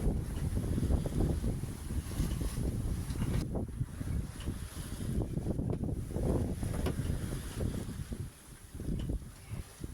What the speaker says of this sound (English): we enjoyed watching the sails blooming in the wind and the soft sound of waves against Sofia